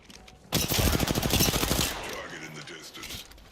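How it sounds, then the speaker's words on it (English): Automatic weapon fire in the video game Apex Legends, a loud rapid burst of shots lasting about a second and a half, then fading into quieter game sounds and a voice. "Target in the distance. And we're shooting."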